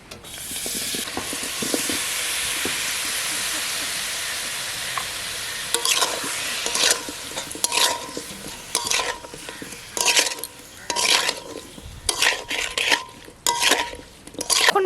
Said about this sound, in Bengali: এখন এটাকে কড়াইয়ের মধ্যে দিয়ে কিছুক্ষণ আস্তে আস্তে জাল দিয়ে দিয়ে মানে চিনিটাকে ঝোলটাকে একদম টানিয়ে নিতে হবে